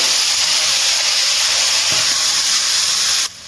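Chopped tomato added to besan frying in oil gives a loud, steady, close hiss that holds for about three seconds, then drops off abruptly.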